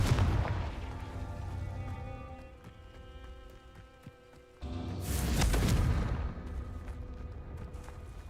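A Confringo spell explosion in Hogwarts Legacy, heard as a sudden booming burst that swells partway through and stands over a dense, continuous bed of game music and effects.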